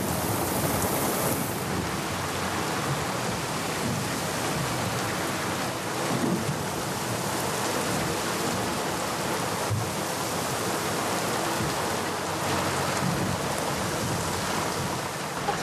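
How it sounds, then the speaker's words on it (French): A downpour roars on without a break, thick rain hammering close by with deep low rumbles of a storm mixed in, no voices present. "Quelle tempête!"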